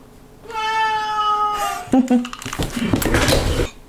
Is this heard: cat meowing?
yes